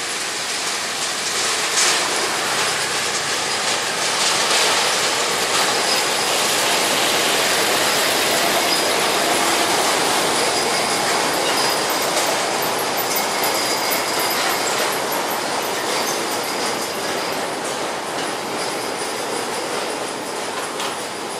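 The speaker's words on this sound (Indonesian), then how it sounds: "Lokomotif D2 membawa rangkaian lori kosong terus mengarah ke selatan menuju ke kebun di sekitar daerah Cakru ini." A D2 locomotive hauls a train of empty sugarcane lorries along the Semboro sugar mill's narrow rail line near Cakru. It passes close and loud, with a steady rumble, squealing wheels and rhythmic clickety-clack, and no voices.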